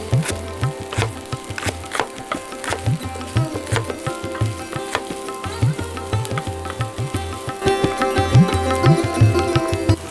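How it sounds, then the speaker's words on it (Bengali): A knife chops onion on a wooden board in quick, uneven bursts of sharp close thuds, continuing steadily for several seconds over a faint background sizzle, with no voices. "আমরা পেঁয়াজটাকে একটু কুচিয়ে নেব।"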